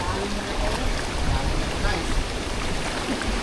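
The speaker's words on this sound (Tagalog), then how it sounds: "Malakas masyado yung alon guys" Strong floodwater after a typhoon in Occidental Mindoro churns loudly and continuously, a broad roaring wash of strong current and waves close by.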